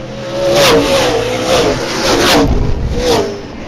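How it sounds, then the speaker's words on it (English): An outlaw super late model race car roars past on the outside at Springport Motor Speedway. The engine is loud and close, with a sustained high-pitched roar that swells and fades as it revs down the straight. "Lets VanWieringen roar by on the outside."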